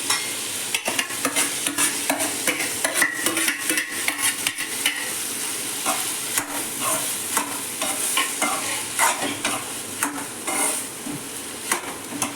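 Boiled chana dal and chopped ridge gourd stir-fried in a pan, with a steady sizzle and repeated scraping and clacking of a spoon against the pan, fairly close and loud throughout, without any talking.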